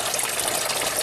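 Filtered water from an aquaponics system pours steadily back into a fish tank inside a greenhouse, a continuous close splashing gush with no talk.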